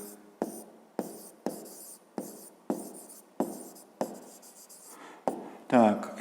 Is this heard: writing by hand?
yes